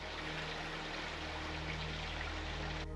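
A small stream trickles near a backcountry outhouse and bear cache at San Josef Bay, a steady close burble of running water that cuts off abruptly at the end, with no voices over it.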